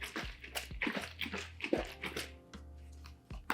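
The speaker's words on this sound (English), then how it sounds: "And then I'm going to shake up my oat milk again." A container of oat milk is shaken by hand, liquid sloshing in quick, close, irregular bursts over a low steady hum in a kitchen, with no voices.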